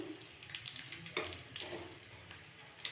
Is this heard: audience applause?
no